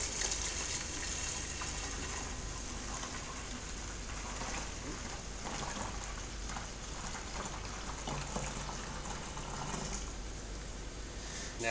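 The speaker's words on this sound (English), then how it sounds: "Now I'm just going to top that up to 3 litres with warm water, not too hot." Warm water runs steadily into a container to top it up to three litres for a homemade beer line cleaner, a continuous close hiss and splash with no pause.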